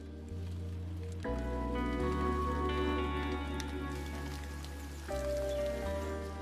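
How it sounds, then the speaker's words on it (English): Steady rain falls outside, a soft, continuous hiss of drops heard from indoors, with sustained tonal sounds running underneath and no talking. "it started to rain"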